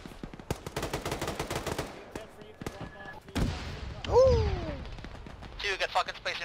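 Gunfire in a military video game engaging a T-72 tank, with rapid bursts of shots followed by a heavy cannon-like blast and descending whine, loud and close, interspersed with voice chat from players.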